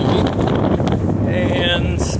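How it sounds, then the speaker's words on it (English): Wind gusting across a lake boat ramp on a breezy day, a steady broadband rush buffeting the microphone throughout with faint background sounds and some voices mixed in. "a pretty nice day, a little windy"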